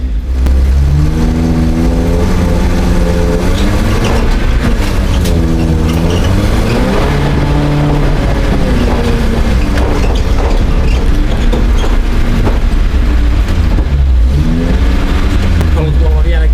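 A Volvo 145 engine revs hard and loud while the car drifts sideways on snow, the pitch rising and falling repeatedly as the throttle is worked, with some talk mixed in.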